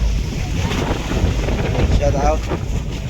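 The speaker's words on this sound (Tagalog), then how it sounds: "Malaki po alon." Big waves striking a small boat at sea off Burias, steady rushing water and wind buffeting the microphone, with a voice briefly audible.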